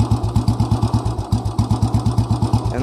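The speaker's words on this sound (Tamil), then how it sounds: "நின்று ஓடுதுங்க வண்டி" A 2002 Royal Enfield Bullet motorcycle engine idles close by with a steady, loud, even thump, its slow single-cylinder beat repeating without a break.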